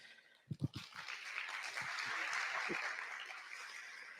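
Applause from a congress audience at a national teaching conference: a few sharp claps at first, then a steady, moderate wash of clapping that holds and slowly eases, with no talking over it.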